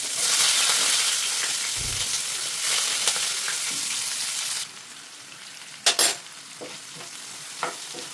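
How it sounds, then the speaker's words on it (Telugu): Steady sizzling of onions and green chillies frying in hot oil with tempering seeds, loud and continuous, then dropping quieter midway with a few sharp clinks of a utensil stirring. "తాలింపు గింజలు వేసి వేయించుకొని ఉల్లిపాయలు పచ్చిమిరపకాయలు వేయించుకుంటున్నాం."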